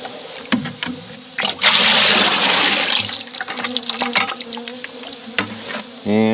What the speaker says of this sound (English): Pour in our new syrup.